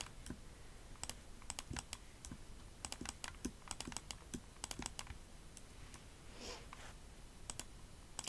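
Rapid, irregular clicks of a computer mouse during newborn photo editing, light and close, scattered across the whole stretch over a soft steady background hiss with no talking.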